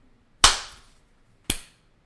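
Two sharp hand claps, the first louder and fuller, the second about a second later and slightly weaker, each crisp and close with a short decay in an otherwise quiet room.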